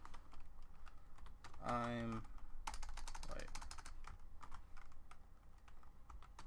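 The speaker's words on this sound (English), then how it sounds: "I'm going to type in" Typing on a computer keyboard: a steady stream of close, crisp key clicks runs throughout, briefly joined by a short voice and a louder clatter midway.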